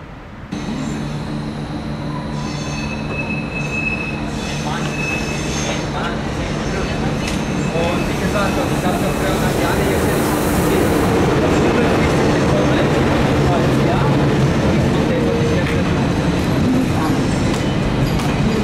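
An ÖBB train pulls away from the platform at Wien Matzleinsdorfer Platz, its steady electric motor hum and rolling rail noise building loudly and continuously, with tonal whines rising as it accelerates past close by.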